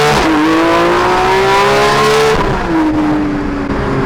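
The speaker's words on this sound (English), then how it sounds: "9K clutch drop launch control." A Porsche GT3 RS engine holds at about 9000 rpm on launch control with a loud, steady, close-up high-pitched wail, then the clutch drops, the revs fall briefly and the engine climbs again under hard acceleration.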